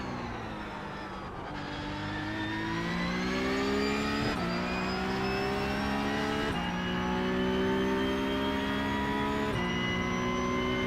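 Porsche Cup race car engine in the iRacing sim, revving hard and climbing through gears with several sharp shift drops, loud and steady from close onboard, with no talk.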